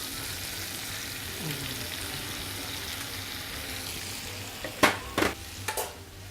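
Vegetables and whole button mushrooms fry with a steady soft sizzle in a pan, followed near the end by a few sharp scraping clatters as they are stirred.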